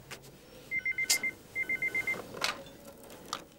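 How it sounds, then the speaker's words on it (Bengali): A telephone rings indoors in two quick bursts of electronic trilling tones, followed by faint clicks and a brief rustle, with no voices over it. "কার ফোন আবার?"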